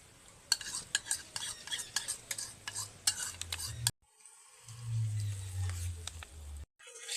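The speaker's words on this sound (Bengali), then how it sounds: "কড়াইটা নিচে নামিয়ে দইটা দিয়ে একবার দুবার নেড়ে নিয়েছি" Spoon stirring whisked sour yogurt into spices in a wok, with repeated scraping and clinking strokes over a low background hum, a brief pause, then softer stirring with a faint sizzle; no talk.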